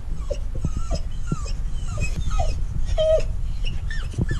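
A dog whimpers and lets out short high yips in a steady run of whines over low background rumble, close to the microphone with no talk.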